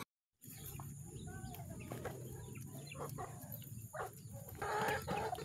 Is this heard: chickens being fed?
yes